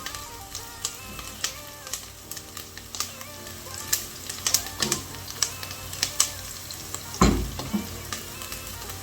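Onions frying in oil seasoned with Royco in a Kenyan home kitchen, a continuous close sizzle broken by frequent clicking stirs and scrapes of a utensil against the pan, with one louder clatter near the end.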